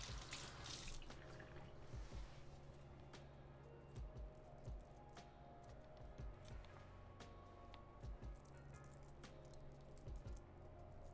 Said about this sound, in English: Literally gotta rinse them off.